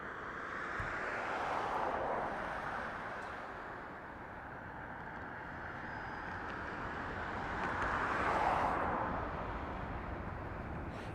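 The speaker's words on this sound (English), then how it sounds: "that was Spirit Airlines flight NKS 1722 coming in from PDX" A Spirit Airlines jet landing at Harry Reid International Airport in Las Vegas produces a steady distant engine roar that swells twice, with broadband rumble and no talk.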